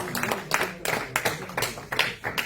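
A church congregation at an evangelical gathering claps for the Lord in loud, uneven bursts of applause that rise and fall over a few seconds, with voices mixed in.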